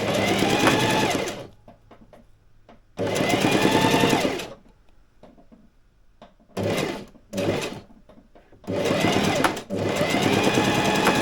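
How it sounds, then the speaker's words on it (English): Sewing machine stitching along the seams of a waterproof cushion cover for a Drascombe Lugger boat: loud bursts of rapid mechanical whirring, three long runs and a few short stops and starts, separated by quiet pauses. "all we're going to now do is sew along these seams to make the corners of the top case"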